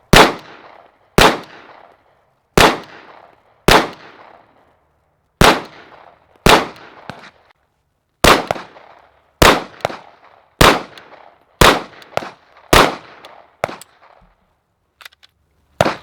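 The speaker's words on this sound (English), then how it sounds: "today we're doing a little bit of shooting with the Canik TP9" A Canik TP9SF pistol fires about thirteen loud, sharp shots, close by and irregularly spaced, each crack followed by a short ringing decay, with a few faint clicks between them.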